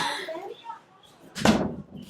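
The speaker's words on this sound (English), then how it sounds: "Bebe, can you close the door, please?" A door is pushed shut with a single sharp thud near the end, after a short stretch of indistinct voices.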